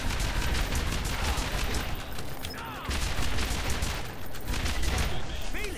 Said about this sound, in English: Okay, I can still shoot at him.